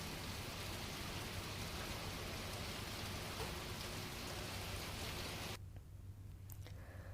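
Light monsoon rain falls after a long dry spell in the Gir region of Gujarat, a soft, even hiss of drops that cuts off abruptly near the end.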